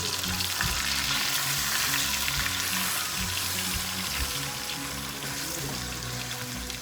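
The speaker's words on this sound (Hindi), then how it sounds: "कीमा ऐड करेंगे। इसको मिक्स कर लेंगे।" Minced meat keema fries loudly in a pan, a dense continuous sizzle with repeated rhythmic stirring scrapes and thumps, close up and without talk.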